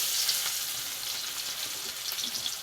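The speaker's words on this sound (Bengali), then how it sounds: "মাছ ভাজা তেলেই পেঁয়াজ দিয়ে দেবো" Onions frying in oil left over from frying fish heads: a constant bright sizzle with light crackling, close and steady, and nobody speaking.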